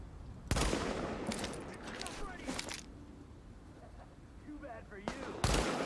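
Gunfire in a shootout in The Division: several sharp bursts of automatic fire, spaced a second or so apart, with someone talking over the firefight between bursts.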